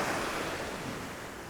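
Waves and wind on Maho Beach, St. Maarten: a dense, steady wash of surf noise mixed with wind buffeting the microphone, loud and continuous with no voices.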